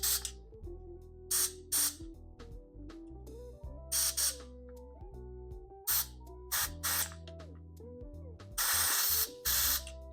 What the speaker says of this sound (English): now, a little bit of compressed air